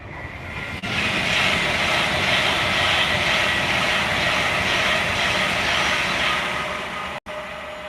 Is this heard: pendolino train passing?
yes